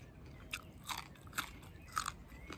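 Someone bites into and chews a sweet mango, giving a series of moist crunchy bites close to the microphone, irregularly spaced over steady low background noise.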